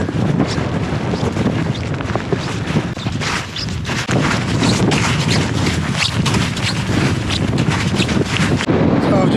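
Strong wind roars steadily across the microphone at a snowy winter campsite, a loud, continuous buffeting rush with brief lulls and a voice faintly under it.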